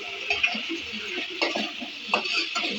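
Tomatoes fry in oil for dal palak, giving a soft steady sizzle with scattered stirring scrapes and light utensil clinks, close and fairly quiet.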